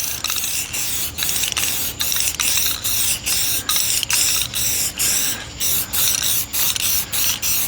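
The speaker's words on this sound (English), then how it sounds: "now we're gonna put a coat of clear on the front of this so that the web will stick to it" A spray can of clear coat hisses onto the front of a board in repeated loud, close bursts of roughly half a second each, separated by brief pauses, with the faint rattle of the can and no talking.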